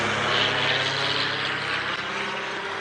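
An anti-poaching patrol plane flies over a safari reserve during a sunrise game drive, giving a loud, steady engine drone that fades slightly across the few seconds with no voices.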